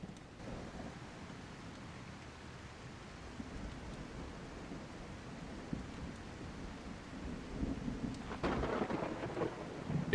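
Steady rainfall with rumbling thunder in the medieval zombie survival game God Save Birmingham, a continuous wash of rain with a louder, brighter burst of storm noise near the end.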